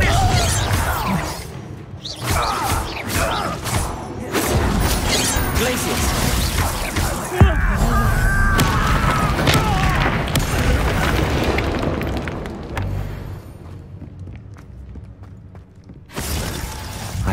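A Confringo blasting spell going off in Hogwarts Legacy, loud booming blasts with shattering debris amid busy combat noise, a voice speaking over the fight before the action fades out.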